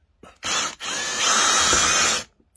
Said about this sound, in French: Donc là voici c'est la perceuse.